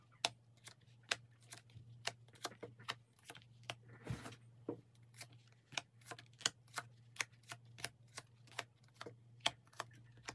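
Tarot cards being handled and turned over during a reading, heard as a steady run of sharp, crisp clicks and flicks in quick, fairly regular succession against a low constant hum, with no talking.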